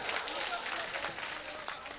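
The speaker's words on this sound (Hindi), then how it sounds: "एक बार जोरदार तालियां बजाएं।" An audience at an international mushaira poetry gathering in Darbhanga, Bihar claps in a sustained, fairly even wave of applause, with voices mixed into the crowd noise.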